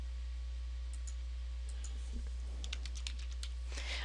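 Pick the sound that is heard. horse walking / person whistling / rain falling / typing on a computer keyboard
typing on a computer keyboard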